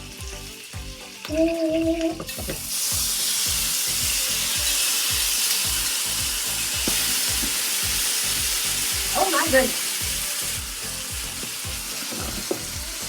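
Loud, steady sizzling of shrimp frying in a hot pan, with a brief clatter and a short exclamation partway through.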